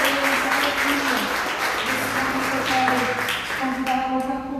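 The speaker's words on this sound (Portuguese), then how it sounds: "Vamos dar uma salva de palmas bem forte, Senhor." A church congregation applauds in a sustained wash of clapping, mixed with voices and musical tones throughout and no clear break.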